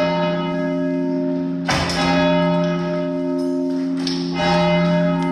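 Big church bells at St Joseph's seminary in the UK peal loudly and continuously, their sustained resonant tones swelling with fresh strikes partway through and again near the end, with no voices over them.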